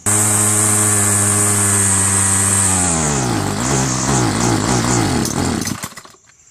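A Homelite Mighty Lite 26CS curved-shaft string trimmer engine runs loud and close with a buzzing two-stroke drone, then its pitch sags and sputters unevenly before dying out near the end.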